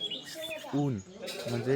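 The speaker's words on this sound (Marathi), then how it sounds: "एवढी शांतता, पक्ष्यांचा किलबिलाट" Small birds chirp and tweet in a quiet, misty Konkan village morning during the Shimga festival, with faint, scattered calls heard under someone speaking.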